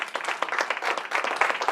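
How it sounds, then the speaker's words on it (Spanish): A church congregation claps together in a short, dense burst of applause, many hands close by and steady throughout. "el pueblo de Dios le da un aplauso a todos los que lo ven por la red."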